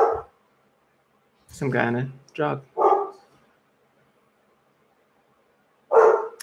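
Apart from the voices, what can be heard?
dogs barking at a passing jogger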